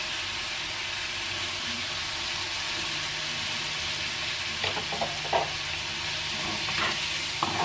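Chicken pieces frying with leftover spices in a pan, giving a steady loud sizzle throughout, with a few light scraping stirs toward the end and no talking.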